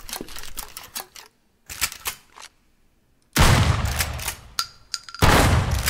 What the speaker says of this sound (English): Let's load in some slugs.